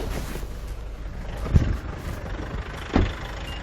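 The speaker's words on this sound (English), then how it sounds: "the car is going to keep giving itself some throttle. The engine is not going to go off." A Nissan Navara engine runs at low idle as the vehicle creeps forward on its own, a steady rumbling drone close by with two brief louder bumps.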